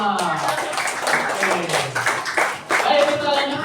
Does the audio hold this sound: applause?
yes